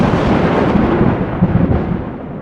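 Deep rumbling thunder rolling steadily and loudly for the whole stretch, with dense low-end rumble and no break or voices.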